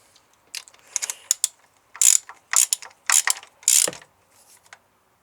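A ratchet wrench tightening spark plugs by hand on a Mazda Miata engine, close, loud clicking bursts in several separate strokes with short pauses between them.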